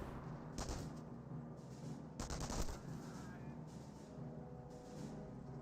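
MP40 submachine-gun fire from Volksgrenadier infantry in the World War II strategy game Company of Heroes, two short loud bursts of rapid automatic fire amid a low battlefield rumble, with distant popping shots in between.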